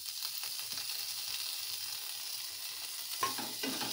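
Potato stuffing with coriander leaves fries in a pan with a steady, hissing sizzle that holds throughout, joined near the end by a few soft stirring scrapes, close up and without voices.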